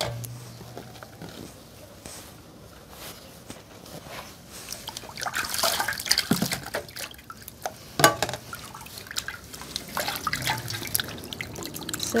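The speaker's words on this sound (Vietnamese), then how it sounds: "Mỗi lần đi chợ giờ là rửa cả là rau củ quả" Running water rinsing vegetables and fruit at a sink after a market trip, a steady trickling and splashing stream with drips and brief clattering handling sounds, louder bursts near the middle and end.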